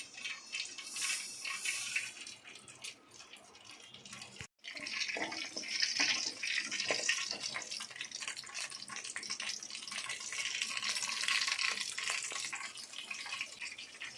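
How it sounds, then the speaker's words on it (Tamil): Mustard seeds, fenugreek and cumin sizzle in hot oil for sambar, a steady crackling hiss with popping bits, briefly cutting out before growing fuller and louder. "எண்ணெய் வந்து ஹீட் ஆகிடுச்சு தாளிக்கிறது வந்து கடுகு வெந்தயம் ஜீரகம் சேர்த்துருக்கேன் இப்போ எண்ணெயில் சேர்த்துடலாம்"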